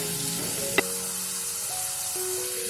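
Pressure-cooked potatoes crisp in a pan with a steady, even sizzle. A sustained tone runs over the hiss, and a single sharp tap lands near the start.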